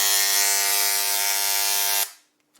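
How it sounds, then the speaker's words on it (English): An ultrasonic sonic knife running in a teardown of an MJX HyperGO 16207 3S battery, giving a loud, steady, high-pitched whine with dense harmonics that holds for about two seconds and then cuts off abruptly into near silence. "You'll see in a minute why it's called a sonic knife, because it's loud."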